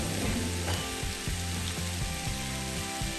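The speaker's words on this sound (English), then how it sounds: "we have to cook the meat now" Beef frying in a pan for a stir fry with onions and mushrooms, a steady bright sizzle with rhythmic scraping and stirring strokes, close and alone.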